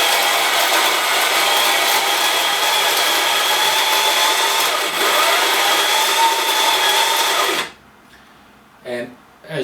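An Ascaso coffee grinder grinds espresso straight into a tilted portafilter for an Elektra Microcasa a leva lever machine, a loud, steady, close whir lasting several seconds before cutting off, followed by quiet tapping and a voice.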